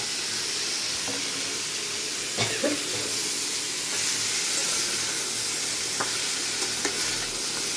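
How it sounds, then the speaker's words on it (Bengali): Vegetables with turmeric sizzle and steam in a pan while a spoon stirs them, bringing a few scattered scraping knocks up out of a dense, even frying hiss. "এইভাবে সুন্দর নেড়ে চেড়ে নেবো, ঢেকে ঢেকে একটু ভেজে ভেজে নেবো আমি"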